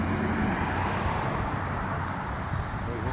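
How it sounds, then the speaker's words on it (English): Trucks and street traffic at a crossing near a campus recreational center, a continuous close rumble of engines and tyres with broadband road noise throughout. "We hope these trucks stop for us here"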